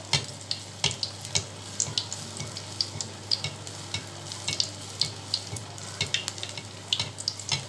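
Appam made from idli batter fries in oil in a pan, giving a soft, continuous sizzle scattered with quick crackles and pops throughout.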